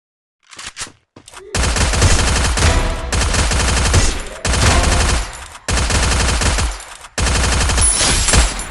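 P90 bursts in a video game firefight: long sustained volleys of rapid automatic shots, loud and close, broken by brief pauses between four or five extended strings of fire.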